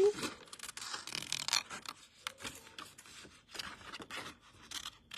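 Scissors snip through paper in a series of quick, close crisp cuts and rustles, bursts of sharp noise separated by short pauses, fairly quiet throughout.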